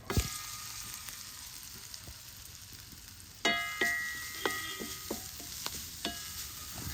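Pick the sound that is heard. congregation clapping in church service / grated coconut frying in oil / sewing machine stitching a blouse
grated coconut frying in oil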